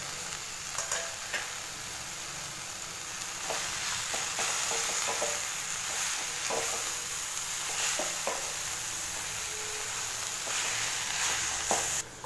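Coriander and mint leaves sautéed in a pan for chutney, an even, close frying hiss with occasional spoon scrapes and light knocks, no talking.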